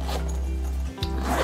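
The double zipper on the fabric case of a portable camp kitchen utensil set is pulled in a quick close rasp, then stops briefly and runs again, heard clearly over low room hum.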